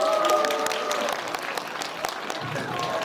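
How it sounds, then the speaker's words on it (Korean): A theater audience applauds prize winners at a concert-film stage greeting, with dense, steady clapping that stays loud throughout, a few cheers, and a speaking voice faintly under it. "두 분께 여러분들 축하의 박수 부탁드리겠습니다."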